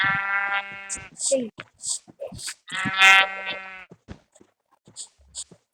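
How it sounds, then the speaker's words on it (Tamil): Blocky sheep in the video game Minecraft bleat a few times in short, loud, harmonic calls, separated by brief gaps, with game sound effects in between. "இந்த ஆடு ஒரு ஃபுட்டு கூட கொடுக்க மாட்டேங்குது. புல்லு மட்டும்தான் கொடுக்குது."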